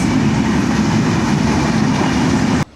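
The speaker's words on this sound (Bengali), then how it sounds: "এই যে কি গতিতে ট্রেন আসতেছে, পঞ্চগড় এক্সপ্রেস" A Panchagarh Express passenger train runs through the Hili border rail station in Bangladesh: a loud, steady, close rumble with wheel clatter that holds for over two seconds, then drops away abruptly.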